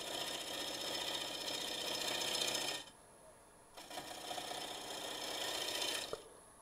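Wood lathe spinning a paper towel holder blank with a tool cutting it, a steady close whirring grind that drops away briefly and then resumes, with no talking.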